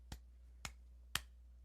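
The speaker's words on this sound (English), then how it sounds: "picking up my clapping very well" Three sharp, quiet claps land about half a second apart in an otherwise quiet room, each a brief isolated crack with no voices.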